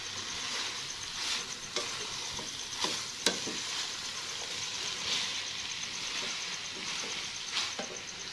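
Carrot halwa with khoya is stirred in a pan, a soft continuous sizzle broken by repeated scraping strokes of a spoon against the metal and occasional sharper clinks.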